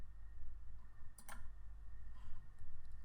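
Two quick, faint mouse clicks sound close together in a quiet room, followed later by a softer click over a low steady hum.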